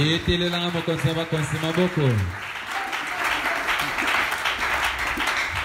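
Church congregation applauding and acclaiming during a French-language sermon on faith, loud continuous clapping with shouts that rise as a preacher's sung voice drops away, then sustained applause filling the room.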